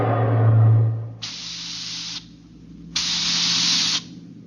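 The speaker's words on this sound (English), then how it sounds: "We could hear the desperate bursts of steam through the steering tubes as the Starfire maneuvered to dodge the enemy attacks" Two long hissing bursts of steam vent through a spaceship's steering tubes during a space battle, each loud and sustained for about a second, following a low rumbling tone.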